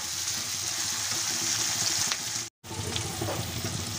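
Chopped onions frying in hot oil with cumin, cinnamon and bay leaf for a village-style chicken curry, giving a steady loud sizzle with a brief drop to silence midway before the frying hiss resumes.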